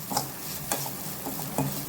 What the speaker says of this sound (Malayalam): നല്ലോണം ഫ്രൈ ചെയ്തെടുക്കാം.